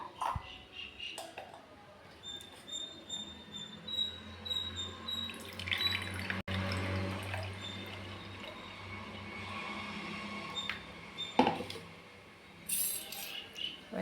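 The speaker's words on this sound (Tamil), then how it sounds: "இப்போ வடிகட்ட போகிறோம்." Amla (Indian gooseberry) juice made only from gooseberries and water is poured through a strainer, giving a steady watery trickle with faint clinks of glass and metal close by, broken by a few sharper knocks.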